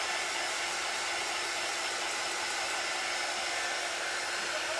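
Heat gun blowing hot air at a butter dish, a steady, loud, close broadband rush that holds without change throughout.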